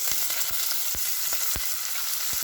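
Chopped onion, green chili and curry leaves saute in a pan with a steady, loud hiss and several sharp stirring clacks spaced through it, near and without talk.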